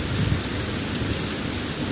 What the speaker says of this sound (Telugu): చూడండి అసలు ఇది ఎలా పడుతుందో వాన